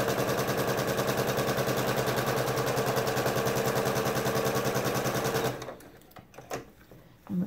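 A sewing machine stitches a large Ohio Stars lap quilt with rapid, steady, even mechanical chatter close by for several seconds, then stops, leaving a few soft handling knocks.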